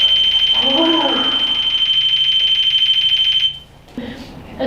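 A REM pod ghost-hunting device sounding its alarm during a night investigation, a loud steady electronic tone held for over three seconds before cutting out, followed by faint noises.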